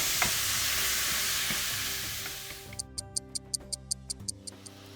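Ground beef browning in a pan for baked kibbeh, a loud hissing sizzle that fades midway, followed by a run of sharp, evenly spaced ticking clicks.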